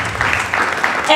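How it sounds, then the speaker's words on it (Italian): Warm applause for sponsors at Napoli Fashion Week, a crowd clapping in a dense wash with a voice talking over it. "Accompagniamoli da un caloroso applauso"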